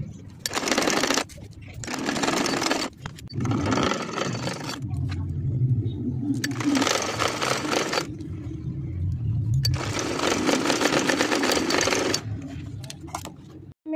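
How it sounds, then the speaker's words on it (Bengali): A sewing machine runs a straight stitch along a kameez sleeve in several loud, close bursts of a couple of seconds each, separated by short pauses with a low background rumble. "এবার আমি সিধে সেলাইটা করে দেব।"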